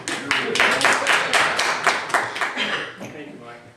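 A small group applauds at a city council meeting after a public speaker finishes, giving a burst of rhythmic, fairly close clapping that thins out and fades within a few seconds.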